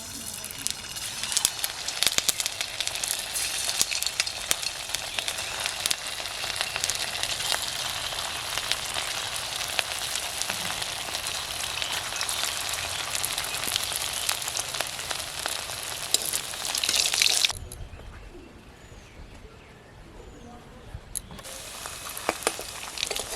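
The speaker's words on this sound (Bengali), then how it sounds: "সাদা তেল দিয়ে দিচ্ছি মিষ্টিটা ভাজার জন্য" Semolina sweets fry in lightly heated white oil with a continuous close crackling sizzle, which briefly drops away near the end before resuming, while a person talks over it.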